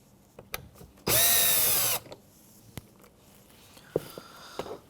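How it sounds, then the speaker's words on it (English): A power drill or driver whines steadily for about a second as it backs out a door handle screw on a 2007-2013 Mitsubishi Outlander rear door, followed by a few faint clicks and taps from handling the trim. "Remove your screw."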